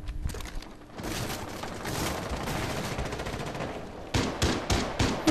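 Rapid automatic gunfire from the video game Rainbow Six Siege, loud dense bursts running almost continuously with a short pause before sharper single shots near the end.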